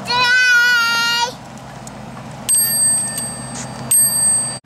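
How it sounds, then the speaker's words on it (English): A small bicycle bell on a child's bike with training wheels, rung twice with clear metallic dings at about 2.5 and 4 seconds, after a child's high vocal cry at the start. "Ring the bell."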